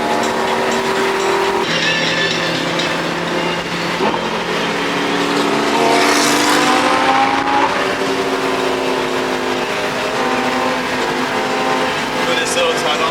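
A Lamborghini hypercar accelerates hard on a Southern California drive, its engine note climbing through the gears in a loud, sustained whine and roar heard from inside, with people talking over it.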